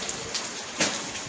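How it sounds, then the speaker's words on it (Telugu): Heavy rain pouring down on a rainy day, a dense and continuous hiss of falling water with a couple of brief louder surges of splashing. "ఫుల్ వర్షం పడుతుంది"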